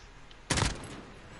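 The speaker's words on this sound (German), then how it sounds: "Woher ist jetzt der Schuss gekommen?" A single loud, sharp gunshot in Call of Duty: Modern Warfare on PS4 bursts out, then decays into a reverberant tail and low background noise.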